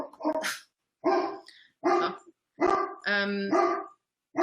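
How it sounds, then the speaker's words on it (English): A dog barks repeatedly nearby, about six loud, sharp barks spaced by short pauses, one stretched into a longer whining bark, with no one else heard. "Sorry, I've got a dog."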